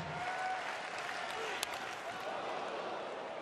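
A baseball stadium crowd at a Washington Nationals game roars and applauds in a steady, distant wash of cheering, with a commentator's voice talking over it.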